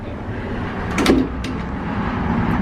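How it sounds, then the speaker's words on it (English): A sliding door on a European train compartment, a short rolling slide and thud near the start of a steady rumbling carriage background, followed by a couple of faint clicks, with no talk. "it has the door that you open"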